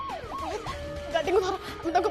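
Ambulance siren wailing with a rising and falling tone, moderately distant, fading in and out over a couple of seconds amid background noise.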